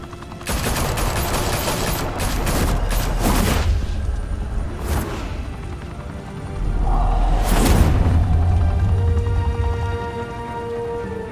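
Gunfire erupts in Telltale's The Batman video game, a loud fusillade of rapid shots with heavy thumps and booms, fading and then surging again with a low rumble.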